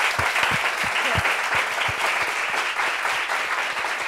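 A studio audience gives a steady, dense round of applause for guest Daisy Frangine, many hands clapping continuously at an even level throughout.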